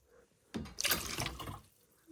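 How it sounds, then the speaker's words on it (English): Water poured into a small animal's enclosure near a nesting box, a brief splashing trickle lasting about a second, close and moderately loud. "So I just pour water like this."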